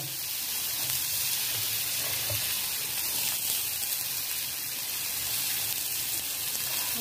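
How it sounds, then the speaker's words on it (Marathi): Garlic, asafoetida and chopped onion sizzle in hot oil in a pan, giving a steady, close hiss and crackle that runs unbroken throughout without any voices. "आपण मी लसूण टाकली, थोडंसं हिंग टाकायचं आणि कापलेला आपला कांदा"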